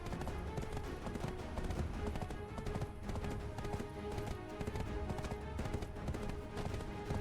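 Horse hooves clip-clopping in the video game Black Desert, a fast, even run of hoofbeats that goes on without a break over a dense game soundtrack, with no talking.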